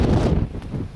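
Wind buffets a microphone outdoors on a hike, loud low rumbling gusts that surge and ease.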